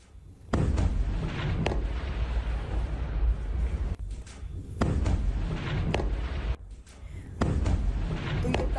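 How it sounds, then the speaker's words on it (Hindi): Several loud, rumbling airstrike blasts in Lebanon in a row, each a sharp boom that rolls into a long roar, with brief dips between them and no talking. "ये तस्वीरें और ये धमाके की आवाज आप एक बार फिर सुनिए।"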